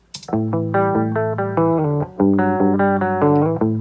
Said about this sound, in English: just the dry track sounds like this that I played direct